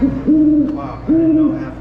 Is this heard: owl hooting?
yes